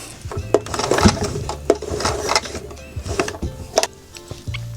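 A sewing machine runs in short bursts while stitching a keyring loop onto a small fabric keychain purse, with mechanical clatter, brief stops and handling knocks between runs, fairly close.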